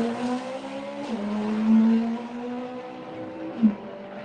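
A drag racing car makes a test pass, its engine droning loud and steady with rising harmonic pitch, then easing off the throttle with a brief rev blip near the end.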